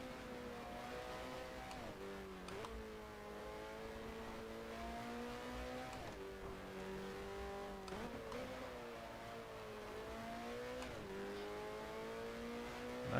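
A 1972 Formula 1 race car engine in the F1 Challenge 1972 racing game at the French circuit, a steady high-pitched drone that sweeps up and dips through several gear changes, loud and continuous with no voices.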